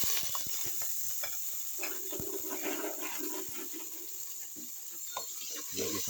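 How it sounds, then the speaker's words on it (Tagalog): Chicken pieces sauté in a pan at home, giving a faint steady sizzle with scattered clinks and stirring scrapes, fairly quiet throughout. "Gigisa ko na."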